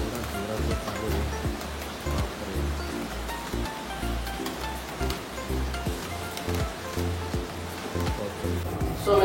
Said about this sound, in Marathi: पाऊस एवढा जोरात चालू आहे